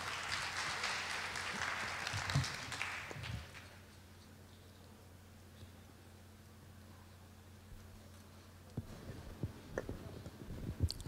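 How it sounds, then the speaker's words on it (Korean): Audience at a cybersecurity conference session applauds to welcome a researcher, a steady patter of clapping for about three seconds that stops into quiet room tone, with faint rustling and a few later sounds. "한승원 책임연구원님 큰 박수로 맞아주시기 바랍니다."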